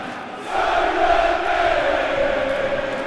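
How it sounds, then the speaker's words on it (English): A sell-out football crowd roars at Millwall's stadium, The Den, for a Millwall versus Charlton Athletic match, a loud sustained wash of chanting voices that swells up after a quiet opening half-second. "This is a sell-out crowd"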